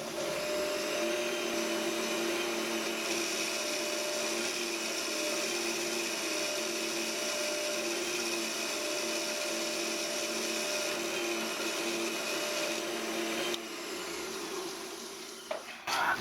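A metal lathe taking a light skim cut on a part for a homemade rotary table: a continuous, fairly loud machining whine and hiss that holds steady, then eases and changes near the end.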